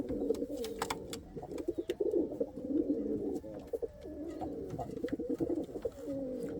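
Indian Fantail pigeon squabs give soft, rapid squeaks and cooing calls up close, in quick, uneven bursts that run continuously.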